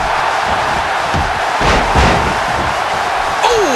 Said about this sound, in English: A serious knockout blow.